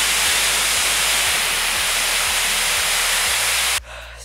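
A prototype car dryer blower for detailers roars with a loud, steady rushing hiss of air close by, then cuts down sharply near the end, with no voices.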